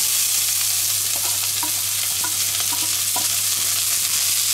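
Onions fry in a pan alongside browned cabbage rolls as a sauce is started, a constant loud sizzle with faint crackles and pops, no talking.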